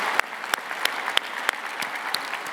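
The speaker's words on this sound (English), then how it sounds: "give yourselves a round of applause" A large convention audience of thousands claps in a dense, continuous round of applause, with a few sharper individual claps standing out from the crowd wash.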